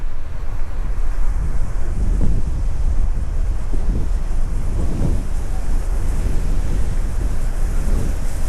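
Wind gusts roar close against the microphone across a young paddy field, with loud buffeting that rises and falls throughout and no voices.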